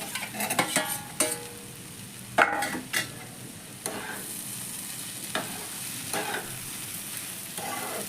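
Fried potatoes stirred into spiced rice in a pan for Bengali muri ghonto, with repeated scraping and clinking of a spoon over a soft continuous sizzle, no talking.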